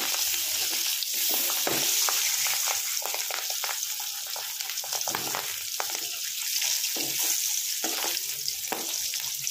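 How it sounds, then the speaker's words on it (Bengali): Halved pabda fish fry in hot oil in a pan, giving a steady, close sizzle with frequent sharp crackles and pops throughout and no voices. "পাবদা মাছের ঝাল দিয়ে দিলাম তেলের মধ্যে"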